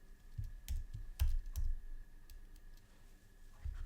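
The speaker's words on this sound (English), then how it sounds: "I can type" Quick bursts of clicking keystrokes on a computer keyboard, close and fairly quiet, with short pauses between runs of typing and no talking.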